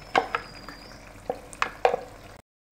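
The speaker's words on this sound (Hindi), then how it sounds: "अब हम इसमें डालेंगे ये चॉप किया हुआ बैंगन, इसमें शामिल कर देंगे" Chopped brinjal is stirred into hot masala in a pan for a bharta, giving a soft sizzle broken by several distinct scraping and clinking stirs before the sound cuts to silence.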